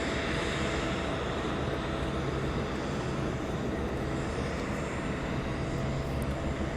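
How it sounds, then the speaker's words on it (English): A cargo plane passes at East Midlands Airport, a loud, steady engine roar that holds evenly throughout without fading. "I love seeing cargo planes"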